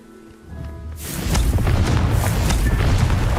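Confringo fire spell blasting in the Hogwarts Legacy game: a quiet opening with faint tones gives way after about a second to a loud, sustained rumbling boom, like an explosion rolling on without a break.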